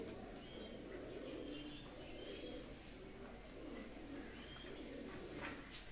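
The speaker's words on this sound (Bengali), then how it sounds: "এই এক পেয়ার রয়্যাল টেডি কবুতর নিয়ে আসলাম" A pair of Royal Teddy pigeons coo softly in a quiet space, with repeated low murmuring calls at a faint level over a steady background hiss.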